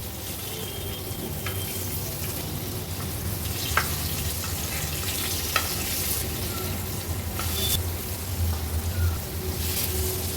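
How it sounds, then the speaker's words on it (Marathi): Lepa fish pieces fry steadily in hot oil for an Agri-Koli style fish thali, a continuous close sizzle and bubbling with occasional faint clicks and taps, no talk. "ह्याच तेलामध्ये ह्या लेपा व्यवस्थित तळून होतील"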